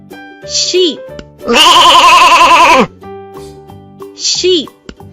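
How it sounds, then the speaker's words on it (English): Sheep bleating in a single loud, sustained wavering call of about a second, set between spoken words from a narrator naming animals. "sheep,"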